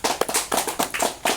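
Audience clapping at a pesantren (Islamic boarding school) talk event, a short burst of sharp, uneven claps rising and falling in quick clusters, fairly close.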